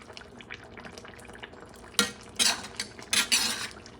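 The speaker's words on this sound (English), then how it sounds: "Mix things up." A utensil clanks and scrapes against a pot as braised halal beef shanks are stirred. A few louder wet scraping strokes come over a low simmering background.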